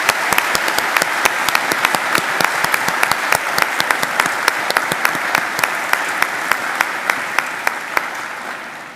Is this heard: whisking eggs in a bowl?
no